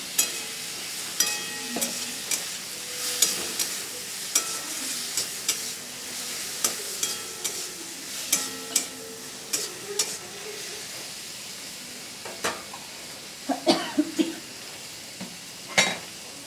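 Slit green chili and chopped tomato frying in a pan with turmeric, giving a steady sizzle broken by frequent clinks and scrapes of a spoon stirring against the pan.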